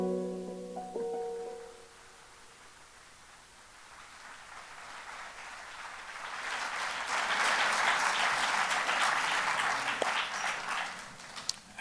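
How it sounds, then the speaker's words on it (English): An event audience applauds students. A brief tonal sound opens, then a quiet stretch, and clapping swells from scattered claps into loud, dense applause that sustains to the end. "How about a huge round of applause for all of these incredible students?"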